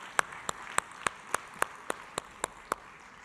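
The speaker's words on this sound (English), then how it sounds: "Keep the applause going for this group." Clapping for a panel at a government summit: sharp, evenly spaced claps ring out close by, about three or four each second, over a quiet room.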